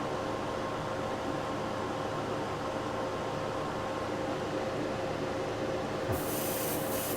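A Black Widow airbrush fitted with a .5 needle and a fan cap sprays Createx paint over white, giving a steady, airy hiss that runs unbroken and brightens slightly near the end.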